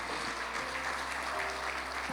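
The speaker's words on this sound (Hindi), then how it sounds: "जोरदार तालियां इसके लिए भी" Applause from a congregation at a Servants of Apostolic Church service in Dubai, a faint, steady wash of clapping heard from a distance over a low hum.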